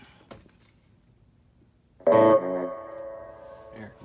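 A single electric guitar chord through a Mesa Rectoverb 25 combo amp's reverb, set at 10 watts, rings out and trails off with a reverberant wash, preceded by a faint tap, then a quieter note near the end.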